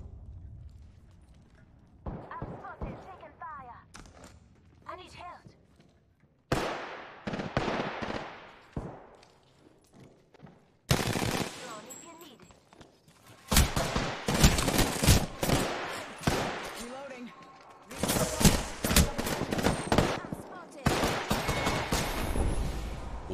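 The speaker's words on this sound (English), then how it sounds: "I'm spotted. Taking fire." Gunfire in the Apex Legends video game, with bursts of rapid automatic shots and sharp single cracks arriving in irregular clusters, starting sparse and faint and growing louder and denser toward the end.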